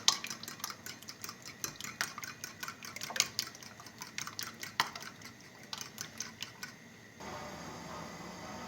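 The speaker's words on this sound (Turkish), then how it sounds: "çatal yardımıyla iyice çırpıyoruz" A fork clicks and scrapes rapidly against a bowl in steady, close whisking strokes, then stops, leaving a soft hiss of room noise.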